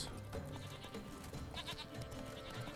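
Goats bleating in The Witcher 3 Blood and Wine: faint, wavering bleats come and go over quiet game music.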